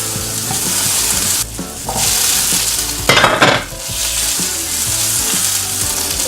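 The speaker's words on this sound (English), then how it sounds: "And then we saute the shallots, separating them, and also working the fond a little bit." Shallots sauté in a pan, working the fond, with a loud continuous sizzle and frying hiss, broken by brief scraping stirs of a utensil against the pan.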